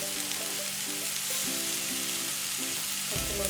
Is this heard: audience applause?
no